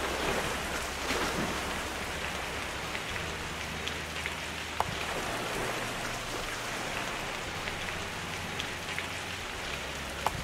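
Rain in the survival video game My Tribe on an ocean shore: a steady, dense patter of raindrops with occasional heavier drips, continuous and even throughout, no talking.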